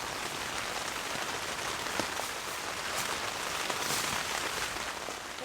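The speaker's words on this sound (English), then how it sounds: "I feel like it's raining harder than it was" Heavy rain drums steadily on a camping tent in an open field, a dense continuous patter with scattered louder drops, no voices.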